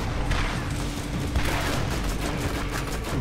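Rapid bursts of gunfire in the video game Borderlands crackle continuously at moderate volume, with dense shots and a few heavier thumps.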